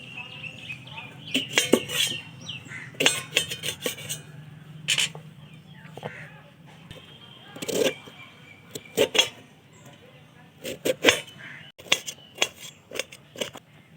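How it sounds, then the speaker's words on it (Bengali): A knife chops a cucumber into small cubes on a board, giving quick irregular clusters of sharp taps and clicks with brief pauses in a quiet kitchen. "এরপর নিয়ে নিয়েছি একটা শশাটাকেও খুব ভালোভাবে কুচিয়ে নেব"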